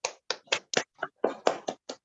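Seminar attendees clap for a speaker, about ten separate claps in an uneven rhythm, close and moderately loud with silence between them and no talking.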